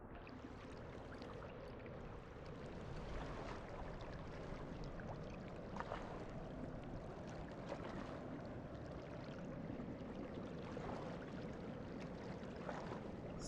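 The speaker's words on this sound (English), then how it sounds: "Slushy water." Slushy water full of melting snow washes and sloshes steadily in the video game Rain World: Downpour, a continuous close watery rush with soft splashes rising and falling throughout.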